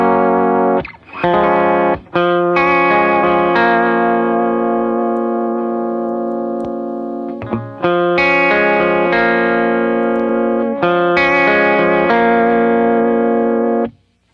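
An electric guitar plays through a Light Destroyer effects pedal: ringing chords swell and sustain with a distorted, chorus-like shimmer. A few sharp re-attacks break the long held notes, and no one speaks.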